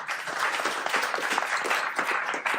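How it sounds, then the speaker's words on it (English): An audience at a developer talk breaks into brisk, steady clapping, near and moderately loud throughout the short stretch. "So once again, the applause"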